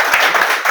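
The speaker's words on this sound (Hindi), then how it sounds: "अरे बजाओ ना तालियां" Brief scattered clapping from students in a physics lecture hall, a short burst of hand claps under a moderately loud room tone.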